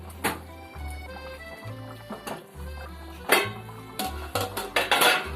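A pot of fish curry is shaken and swirled to mix it without a ladle, with metal knocks and clinks in irregular bursts over a low steady hum.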